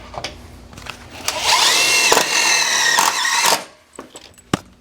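A power drill drives screws into an impact glass frame, with a steady whining burst of about two seconds followed by a few sharp clicks and taps, close and loud.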